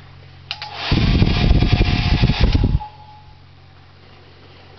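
A hairdryer is switched on and blows a loud burst of air toward a nearby camera for about two seconds, giving a rough, buffeting rush with wind rumble, then cuts off, leaving a faint hum.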